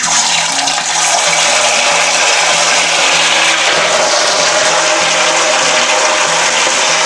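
Chicken pieces frying in hot oil while cooking a Tamil chicken fry: a dense, steady, loud sizzle and hiss continuing without pause, close up, with no talking.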